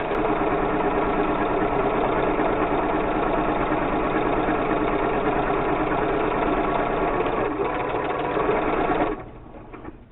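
A sewing machine back-stitches over elastic on a coffee filter face mask. It gives a fast, steady mechanical whirr with needle chatter, running continuously up close before slowing and stopping near the end.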